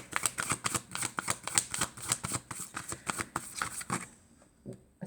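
A deck of oracle cards being shuffled by hand, with a steady series of crisp riffling slaps close up that stop abruptly, leaving a few soft taps.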